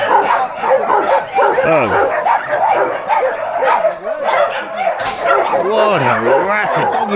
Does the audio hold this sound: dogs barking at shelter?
yes